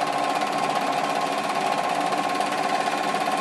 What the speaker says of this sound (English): it's a standard 8mm projector